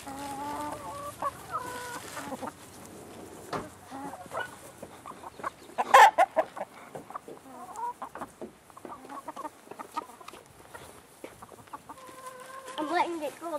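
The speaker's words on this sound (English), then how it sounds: "Now stand still and let the chickens jump." A flock of chickens clucks steadily at close range as they jump for bread, with repeated calls and a sharp squawk midway, and faint voices now and then beneath the birds.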